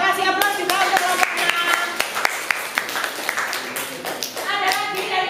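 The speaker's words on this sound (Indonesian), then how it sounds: "Terima kasih aplaus juga untuk kelompok" A classroom of students applauding a presenting group, many hands clapping at a quick uneven rhythm, close and fairly loud, with young voices chattering underneath.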